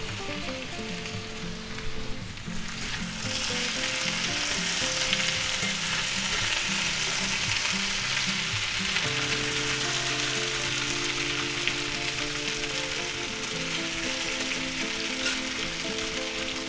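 Potatoes, onions and sausage fry under a lid in a pan, a continuous crackling sizzle with a low steady hum, bubbling on evenly at moderate volume with no voices.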